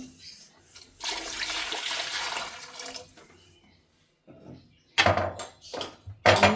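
Water poured into a pot of rice for cooking, bursts of splashing and running water close by, separated by quieter gaps with some background sounds.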